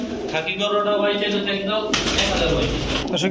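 Pigeons coo at a pigeon sale where khaki gorra, Rampuri and golla birds are offered, a soft throaty warble running continuously under nearby voices bargaining over prices.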